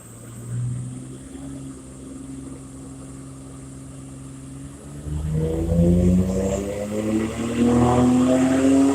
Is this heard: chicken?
no